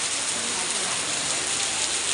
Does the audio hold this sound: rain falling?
yes